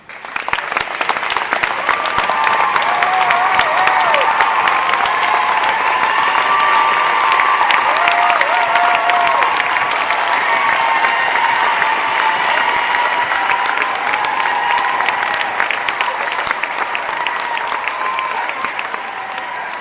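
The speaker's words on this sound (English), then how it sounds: "so we can give them a round of applause" Audience at a girls' middle school event applauding school staff, a long, sustained roar of clapping from a large crowd with a few faint cheers, holding steady for nearly twenty seconds.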